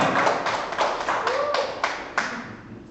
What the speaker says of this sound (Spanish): Un aplauso, un grito de júbilo para Messi.